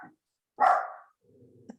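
A pet dog barks once, loudly and close, during a live online relay rally call, followed by a softer low whine and a short yip.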